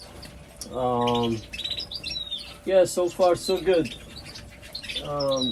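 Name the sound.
pet birds chirping, including red siskins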